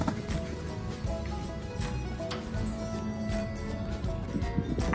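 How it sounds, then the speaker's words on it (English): Small horse on a farm at night, its hooves making irregular light clops and taps over a steady low background rumble, with some faint movement noise around it. "He's the littlest horse on the farm."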